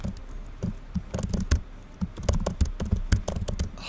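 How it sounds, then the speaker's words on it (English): Rapid clattering keystrokes on a computer keyboard, uneven bursts of close, fairly loud taps with brief pauses, no talk. "Horrible typing."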